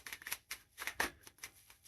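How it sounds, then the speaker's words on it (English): Tarot cards shuffled by hand close to the microphone: a quick series of soft papery riffles and flicks in uneven bursts, fairly faint and with no talking over them. "Let me shuffle this, and we're gonna look in the tarot"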